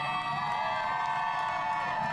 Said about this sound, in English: Kamala Harris was greeted by a cheering crowd outside of the 4th Street Deli in South Philadelphia today